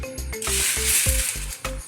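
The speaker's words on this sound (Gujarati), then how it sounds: "હવે આપણે આ એક તવલામાં ઘી લઈ અને પછી એને આપણે શેકવાની છે" Ghee sizzles in a pan while a mango-seed mixture roasts, giving a bright, continuous frying hiss over a steady rhythmic low thumping pulse.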